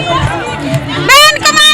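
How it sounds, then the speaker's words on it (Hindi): Large, loud crowd at a Mayawati election rally, a dense roar of many voices with shouts and cheers rising sharply near the end. "बहुत भीड़ है"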